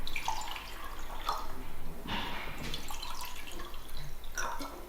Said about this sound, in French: Donc je prends de l'eau du robinet.